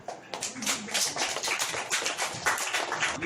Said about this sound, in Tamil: இன்னும் கைத்தட்டல் பத்தாது